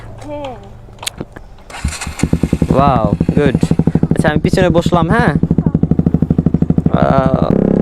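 A Suzuki Gixxer motorcycle engine starts up and settles into a loud, rapid, evenly pulsing run close by, while people talk over it.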